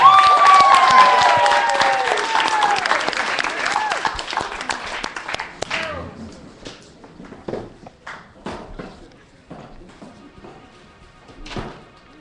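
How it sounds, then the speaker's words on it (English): A crowd at a Delta360 spring 2012 show claps and cheers loudly with whoops and shouts for several seconds, then fades to scattered claps, thumps and a few voices. "Give yourself a round of applause."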